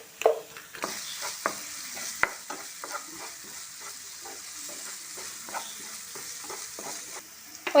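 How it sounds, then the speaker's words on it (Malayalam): Gobi Manchurian, cauliflower in red chilli sauce, fries and sizzles in a pan while a spoon stirs it, giving repeated scraping clicks over a steady hiss. "എന്നിട്ട് നല്ലപോലെ ഇളക്കി കൊടുക്കാം."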